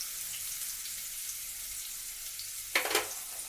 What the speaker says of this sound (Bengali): তেল গরম হয়ে গেছে, এতে দেব হিং, গোটা জিরে, দেব আমি পেঁয়াজ কুচি